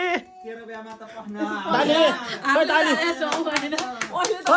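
A family welcoming someone home claps together, with scattered sharp hand claps that gather toward the end, mixed with nearby chatter and laughter.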